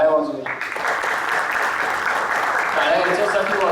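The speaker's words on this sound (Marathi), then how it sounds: "ज्या कलाकारांनी आता आपल्यासमोर तबला वादन सादर केलं त्या सगळ्या कलाकारांसाठी पण आपण एकदा टाळ्या वाजवूया" An audience claps for tabla players after their performance, the applause starting abruptly as a voice finishes and continuing as a dense, steady roar of many hands, fairly loud and close.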